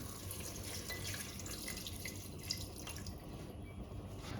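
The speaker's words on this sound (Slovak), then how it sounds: "teraz ho podlejeme vodou tesne tak, aby trošku trčalo z tej vody" Water poured from a tap into a pot of chicken pieces being stewed for a creamy curry risotto, a steady hissing, splashing stream, close and even, with no talk.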